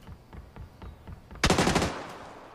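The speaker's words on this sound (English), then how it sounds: "I'm just shooting." Automatic gunfire in the video game PUBG on the Sanhok map: a string of quicker shots, then a louder, sharper burst of rapid fire near the end, with no voices.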